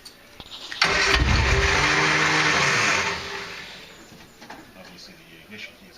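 A Triumph Spitfire engine, unstarted for nine years, cranks and catches, roaring loudly into a rough, steady run for about two seconds before dropping to a quieter idle, with faint voices in the background.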